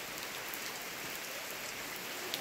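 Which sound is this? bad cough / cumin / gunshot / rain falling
rain falling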